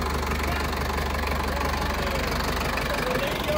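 A Sonalika or Swaraj 855 tractor engine runs steadily nearby, a continuous low rumbling drone with a faint knocking pulse and no pauses.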